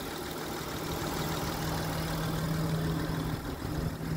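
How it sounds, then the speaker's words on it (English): An Acura CL-S with a J32A2 V6 engine idles steadily with a low, even rumble and a constant hum, no revving, recorded close. "Car sounds excellent."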